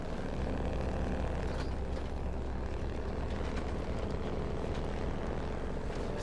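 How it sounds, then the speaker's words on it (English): A truck engine in the video game SnowRunner runs loud and steady throughout, a heavy low rumble with a rough droning texture and no talking over it. "Someone was saying this is like the best sounding truck in the game"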